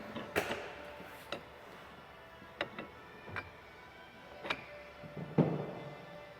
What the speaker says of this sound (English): You'll slide that bar over there into the bracket.